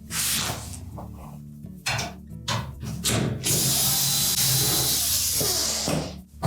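A power driver backs 1/4-inch hex head screws out of the lower access panel of a Whirlpool washer, giving short whirring bursts and then a longer steady buzz with ratcheting, close up and without talk.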